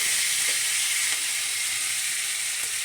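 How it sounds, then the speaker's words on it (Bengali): Ground spice paste frying in oil for fish-head muri ghonto with katla fish, a loud, steady, close hissing sizzle running throughout with only faint stirring ticks and no talk. "সব বাটা মশলা এটা সুন্দর করে তেলে কষিয়ে আমি রান্নাটা যেভাবে করি সেটা হচ্ছে তেলে এইভাবে কষাই"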